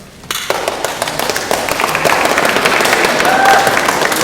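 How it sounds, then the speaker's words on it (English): Audience applause at a Grade 8 school celebration, starting abruptly and building into a loud, dense wash of many hands clapping that holds steady to the end, near and full, with no voices over it. "Please hold the applause again."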